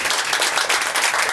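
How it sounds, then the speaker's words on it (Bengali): A church congregation claps together in a dense, loud burst of applause that fills the space and continues steadily without a break. "আমরা দাদার জন্য হাততালি দেবো"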